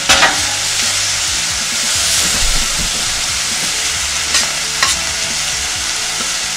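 Cheesesteak meat and vegetables fry with a steady loud sizzle on a hot griddle, broken by a few scraping, clattering spatula turns; no one speaks.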